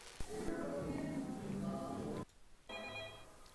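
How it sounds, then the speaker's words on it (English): A telephone starts ringing near the end with a bright electronic trill, after a stretch of busy, mixed background sound and a short drop to near silence. "Phone's ringing."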